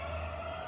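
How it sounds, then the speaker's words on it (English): A steady ambulance siren wails at a distance as it passes, a sustained tone holding throughout a brief moment with no talking. "we've got some ambulance going past."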